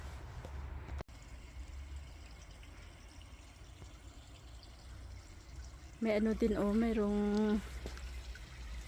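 Water runs steadily from an outdoor village tap in Iseltwald, Switzerland, a continuous close hiss that goes on throughout, while a person talks briefly near the end.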